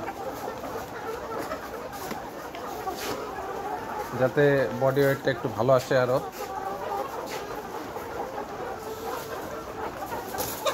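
Layer hens about 118 days old cluck in a caged poultry farm, with a burst of close, louder clucking in the middle over a constant low farm murmur. Someone talks intermittently.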